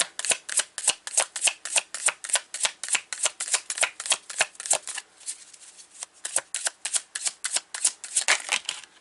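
A tarot deck being shuffled by hand, a rapid series of crisp riffling flicks in quick bursts, close and clear with no talking.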